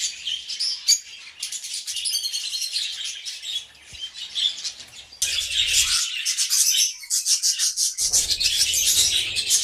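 Dense, busy budgie chirping and twittering, many small birds calling at once close by, with brief rustling and a louder burst partway through.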